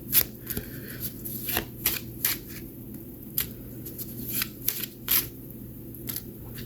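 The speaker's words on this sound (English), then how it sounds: "Trying to shuffle on camera so you can see what's jumping out at me" Oracle cards being shuffled up close: a series of crisp riffling snaps and flicks in irregular bursts over a quiet background hum.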